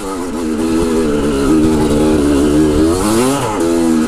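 A dirt bike on a trail revs loudly and close, its engine note climbing and falling in a steady drone with a sharp rise near the end, with no talk over it.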